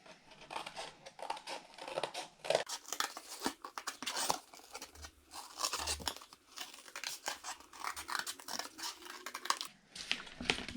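Scissors cut a horn shape out of card for a sock puppet, giving close, irregular crisp snips and papery rustles with short pauses between cuts.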